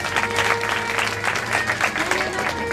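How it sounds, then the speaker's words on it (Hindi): Crowd at a Shiv Mahapuran religious discourse applauds, a sustained wash of many clapping hands with a faint steady tone running underneath. "उन सभी के लिए तालियां।"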